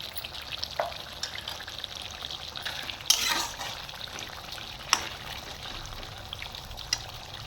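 Chicken sautés in a pan during curry cooking, giving a soft, steady sizzle with occasional stirring scrapes and a couple of louder clatters, close but fairly quiet.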